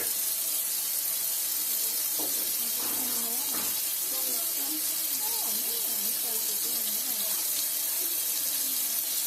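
Tap water runs steadily into a sink while a silver ring is scrubbed with soap and a brass brush, a continuous hiss of flow with a voice briefly audible over it.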